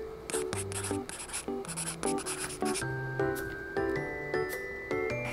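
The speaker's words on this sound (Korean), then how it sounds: "우선은 4번을 써볼게요" Pen strokes scratch across the paper pages of a handmade bunny squishy diary as an entry is written by hand. Short bursts of writing sound come and go under steady, bright musical tones.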